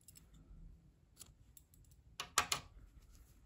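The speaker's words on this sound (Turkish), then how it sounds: "Beyaz renk ipliği kesiyorum arkadaşlar" Scissors snipping white yarn during a knitting project, soft faint clicks followed by a crisp, louder double cut near the end in a quiet room.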